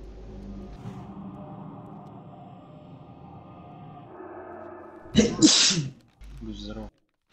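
A loud, sharp sneeze bursts out once, close to the microphone, following a stretch of quiet indoor voice-chat murmur during a gaming session, with a softer breath or voice straight after it.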